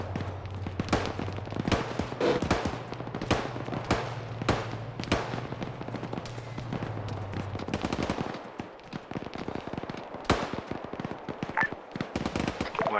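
Rapid bursts of gunfire crack through a firefight in a military simulation operation, shots near and loud in irregular clusters with a steady hum underneath that drops out partway, brief voices between volleys.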